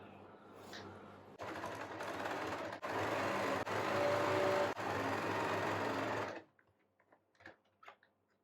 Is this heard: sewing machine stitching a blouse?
yes